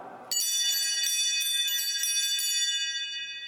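Altar servers ring church bells, a bright sustained metallic peal of repeated strikes that starts abruptly after a moment of quiet and rings on steadily, close and fairly loud, with no talking.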